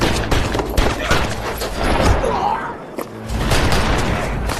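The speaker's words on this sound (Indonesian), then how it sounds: "Sehingga pada saat itu juga terjadilah baku tembak di antara mereka" Gunfight shootout in an action film, a dense loud barrage of overlapping shots and booms, dipping briefly before the firing resumes, with a voice mixed in beneath.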